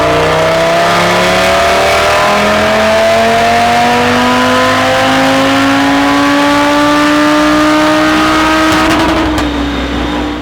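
An Audi RS3 with a Stage 2 Unitronic flex-fuel tune, running E60 fuel, is pulled hard on a dyno. The loud engine howl climbs steadily in pitch through the revs, then cuts off abruptly near the end.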